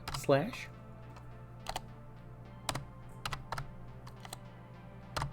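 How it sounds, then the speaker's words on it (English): Someone types on a computer keyboard, close and fairly quiet. Scattered clicks come in small irregular bursts over a steady low hum. "I really can't type today."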